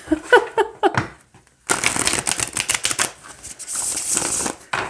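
Tarot cards are riffled and shuffled close up, a rapid papery flutter followed by softer sliding and rustling, with a brief voice at the start.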